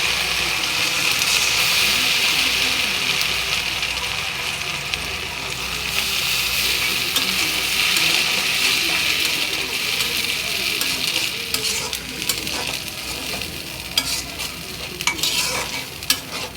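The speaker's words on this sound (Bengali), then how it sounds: "দিয়ে দিলাম পেঁয়াজ আর কাঁচামরিচ ব্লেন্ডার করা।" Blended onion and green chili paste fries in a pan, a dense continuous sizzle with spatula stirring and scraping throughout, close and steady for the whole stretch.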